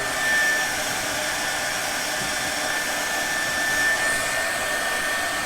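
A heat gun blows a continuous, loud, even roar up close while shrinking heat-shrink tubing onto server cables, with no break from start to finish.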